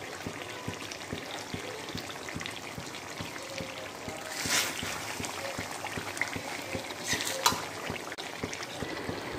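Mutton curry gravy bubbles and boils in a kadhai, with soft, steady popping and gentle plopping at a quiet, close level, a few louder bursts rising now and then.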